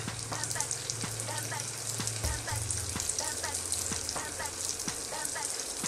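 Chicken spring rolls (lumpia) fry in a pan of oil with a soft, continuous crackling sizzle and scattered pops, fairly quiet and steady, with a low hum underneath.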